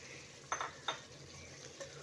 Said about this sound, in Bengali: এবার এই পর্যায়ে ভেজে রাখা আলুগুলো দিয়ে দিচ্ছি।